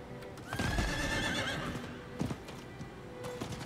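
A horse in the video game Diablo IV whinnies loudly with a rising, shaky neigh, followed by a few hoof clops and soft thumps in a game-like soundscape.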